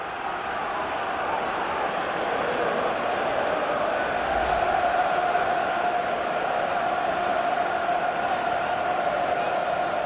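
A football crowd in FIFA 15 during an FA Cup quarter-final, Aston Villa against West Ham, roars steadily and loudly throughout, with commentary voices mixed in.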